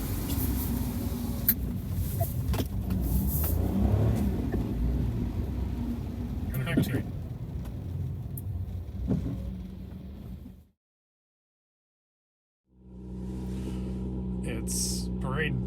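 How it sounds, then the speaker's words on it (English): A Nissan GTR's engine rumbles steadily ahead on a wet Nordschleife during a rainy parade lap, a low continuous drone with tire hiss that cuts out briefly and then resumes; talk is heard over it. "if you can hear me over the GTR in front of me"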